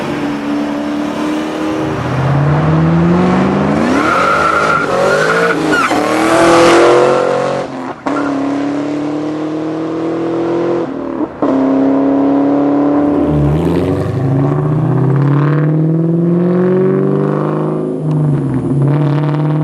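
A loud Ford Cobra engine revs hard and rises in pitch through the gears, with tire squeal and roaring acceleration sustained throughout.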